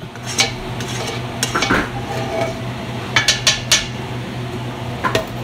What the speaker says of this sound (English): I'm scraping the pot for onions and turkey butt